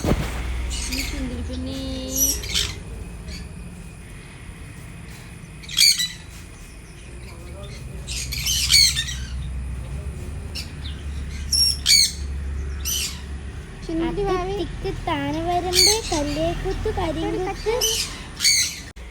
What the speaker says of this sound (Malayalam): നമ്മുടെ കൂട്ടിലെ എത്ര കിളികൾ ഇണങ്ങിയതുണ്ട്